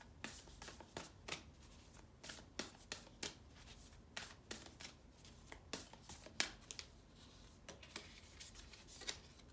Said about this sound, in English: I'm feeling like I should draw one more card